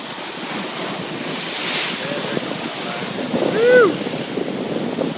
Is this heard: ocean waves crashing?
yes